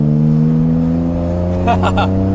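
Rebuilt junkyard Acura NSX engine on its first test run, a loud close steady idle drone that rises briefly into a short rev near the end.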